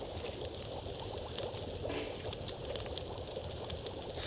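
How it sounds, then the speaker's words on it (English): Water boils in a pot over a campfire in a frozen wilderness, a steady close bubbling and hissing churn that runs without a break and with no voices. "Can you hear my water boiling in the background?"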